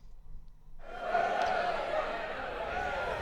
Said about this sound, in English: Hearing the crowd picking up now